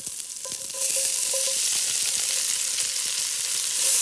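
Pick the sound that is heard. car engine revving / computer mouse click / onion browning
onion browning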